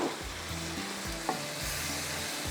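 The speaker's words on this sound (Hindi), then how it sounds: "ये हम बटर के साथ तड़का लगाएंगे।" Steady crackling sizzle of ginger, garlic and spices tempering in hot butter, with a few stirring scrapes, close and continuous, no talking.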